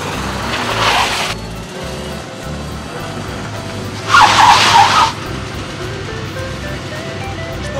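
Two bursts of tire skidding from a car braking hard on a dry road, each about a second long, the second louder, over steady engine and outdoor noise.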